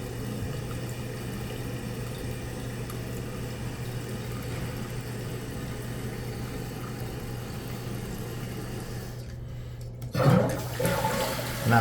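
A toilet tank drains in a steady, continuous rush of water with a low tone beneath it, ending in a sharp gurgle and splash as the flapper drops and refilling begins.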